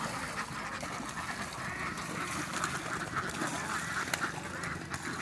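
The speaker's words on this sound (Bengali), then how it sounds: "কতগুলো হাঁস দেখতে পাচ্ছেন" Ducks on a duck farm quack and chatter as a continuous, fairly faint flock noise, many birds overlapping at a middle distance without any clear single call.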